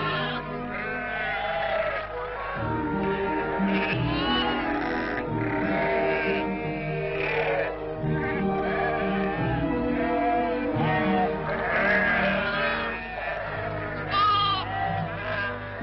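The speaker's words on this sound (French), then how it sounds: "Nous te choisirons tes moutons" Several sheep bleat loudly and repeatedly at a livestock market in pastoral Algeria, overlapping calls forming a dense, continuous chorus close by with a busy background.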